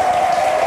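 Audience applause closes a round of a televised quiz game, a short, dense spatter of clapping over a steady tone, with no pause before it ends.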